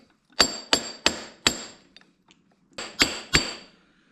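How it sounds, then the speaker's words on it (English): Hammer blows flattening a nut onto an R154 transmission shaft being built into a dog box for a 1JZ MK3 Supra drift car: four sharp metallic strikes in quick succession, a pause, then three more, close and loud with no talk. "we just want to smash it down, smash the nut down onto it."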